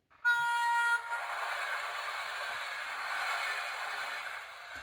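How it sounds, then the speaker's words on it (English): Train sound from a transport sound book: a short loud horn blast at the start, then a steady rolling rumble of a passing train at moderate volume. "And here comes the train."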